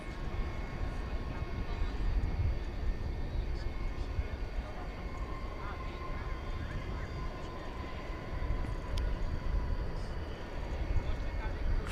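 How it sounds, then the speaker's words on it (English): Airbus A321 airliner arriving at DFW Airport at night from Miami, a soft, distant broadband engine rumble running steadily underneath, fairly faint. "It's an Airbus A321 coming in from Miami"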